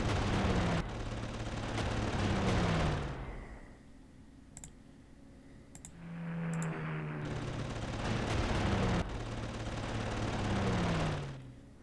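A heavy fighter attacks in the Panzer Corps strategy game with bursts of roaring gunfire and rumbling engines that swell and fade, broken by short clicks, with no talking.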